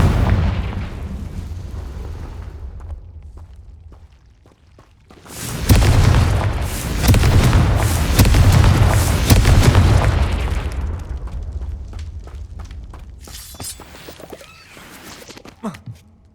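Repeated booming blasts from Confringo spells in Hogwarts Legacy, low rumbling impacts that swell into a long loud burst mid-clip, then trail into quieter scattered pops and a final sharp crack.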